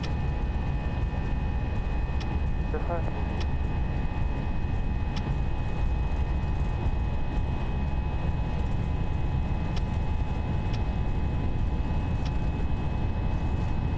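Steady broadband roar of FSLabs A320 jet engines at takeoff thrust in the Prepar3D flight simulator, a constant rumbling drone with faint high tones, unchanging and continuous throughout.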